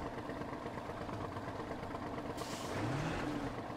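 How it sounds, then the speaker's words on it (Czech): A truck engine in the SnowRunner video game labors and chokes while hauling hay. A loud, continuous, rough engine drone runs throughout, with a brief shift in tone and a hiss of air partway through. "Motor se dusí. Proč se motor dusí?"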